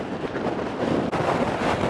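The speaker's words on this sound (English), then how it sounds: "it is very windy" Strong wind blowing on the Cornish coast near Land's End, loud rumbling gusts buffeting the microphone continuously with a brief dip midway.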